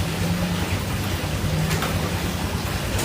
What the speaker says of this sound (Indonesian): Sini mendung malah gerimis.